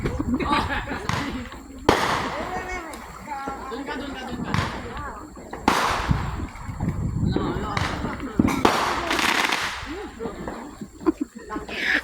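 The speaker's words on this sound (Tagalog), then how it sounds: "Ang daming fireworks." Sharp, booming firework bangs burst at irregular intervals, some near and loud, with people talking and children's voices throughout, during Independence Day celebrations in Houston, Texas.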